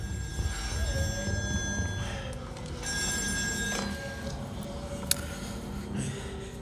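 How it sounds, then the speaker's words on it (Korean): A telephone rings in a horror video game set on an offshore drilling rig, with repeated electronic ring bursts sounding over a low rumbling ambience. "전화 왔다."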